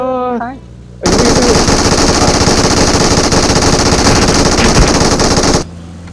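Sustained rapid automatic gunfire rattles loudly and continuously for several seconds in the mobile video game PUBG Mobile, with short gaps before and after and a voice speaking just before it starts.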